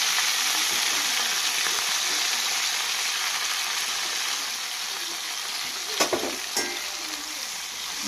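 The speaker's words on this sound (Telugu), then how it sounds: "ఇవి కూడా బాగా ఫ్రై చేసి వేసుకోవాలి" Cut chicken pieces and ingredients fry in a pan with a steady, dense sizzle throughout, stirred now and then, with a couple of brief utensil knocks near the end.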